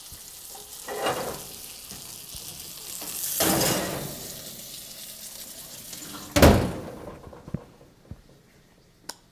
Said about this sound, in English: take this duck we've rendered on the top of the stove and stick it in the oven at 400 degrees